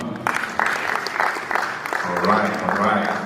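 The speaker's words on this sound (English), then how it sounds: "A clap for her." Clapping from an audience at a space innovation and investment forum in Kenya breaks out in a short, lively burst, with voices audible in the room under the applause.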